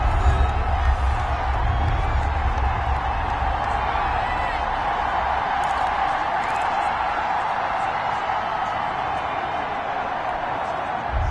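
A stadium crowd in an American football video game roars steadily as a big third down approaches late in the fourth quarter of a one-score game. The broad, constant cheering stays loud and even throughout, with no distinct claps or whoops.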